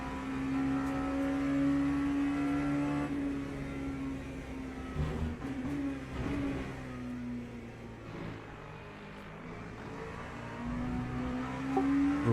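The engine of an LMP prototype race car in Le Mans Ultimate, driving at Paul Ricard, holds a steady high-pitched drone with shifting tonal whine. It stays fairly even at moderate level throughout, and no one speaks.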